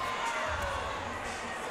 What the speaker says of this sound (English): Crowd's booing him.